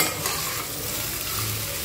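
Sweet pumpkin pieces fry in a hot pan with a constant soft sizzle, while a spatula stirs and scrapes through them in quiet, irregular strokes; no one speaks.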